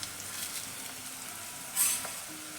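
Cumin seeds sizzle in hot oil with a soft, steady frying hiss. A brief louder crackling burst comes partway through, and no one is talking.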